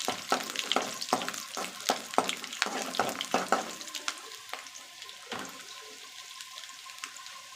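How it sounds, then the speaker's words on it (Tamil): Garlic frying in a pan for brinjal curry, a close sizzle with sharp crackles and stirring scrapes that thin out as the cooking settles. "அதான் நம்மளுக்கு பூண்டு கோல்டன் ப்ரௌன் ஆகட்டும்."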